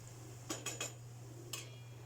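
Utensil stirring a meat sauté with thyme in a pot, a few quick metallic scrapes and clinks in two short bursts over a low steady hum, close and quiet.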